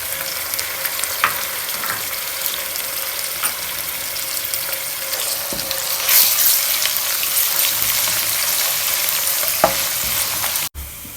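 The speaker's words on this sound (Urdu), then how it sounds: "پیاز ڈال دیں گے، اسے ہم 1 منٹ تک بھونیں گے۔" Onion and garlic fry in a pan with a loud, continuous sizzle, broken by occasional scraping stirs and a brief surge in hiss before the sound cuts off abruptly.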